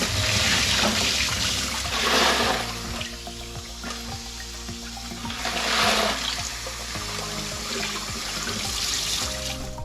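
Fired rifle brass cases rinsed in clean water, with hot water swirling and sloshing around the brass in bursts, two louder surges over a steady close wash of running liquid.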